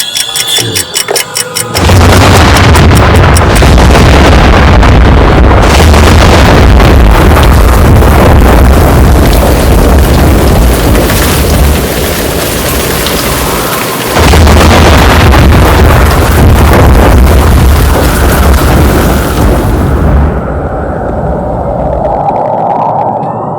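A cartoon bomb goes off with a sudden, very loud blast, then a dense roaring rumble holds for about twenty seconds, dips briefly midway, and thins out at the end.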